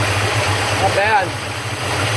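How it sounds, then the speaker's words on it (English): Cold 383 V8 with a Holley carburetor running rich on the choke, a steady low burble at idle throughout, with a brief higher-pitched whine rising and falling midway. "Kind of burbles in the cold air when the engine's cold."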